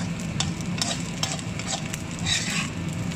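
Fried rice is stirred and scraped in a hot pan, with steady sizzling and frying under a series of clattering, scraping strokes from a utensil, close and continuous.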